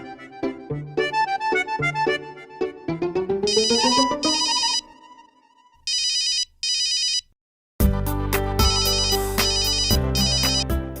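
A mobile phone ringtone plays for an incoming call: a bright melodic tune rises in stepped notes, then repeated electronic ringing bursts with pauses follow, and a loud music passage ends the stretch. No one speaks.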